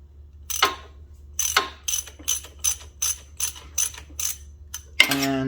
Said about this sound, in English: you're going to take a 1/4 inch hex, and you're going to loosen the bolt underneath.